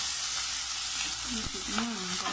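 Garlic and onion sauté in a pan with a steady, close sizzling hiss and a few soft stirring scrapes.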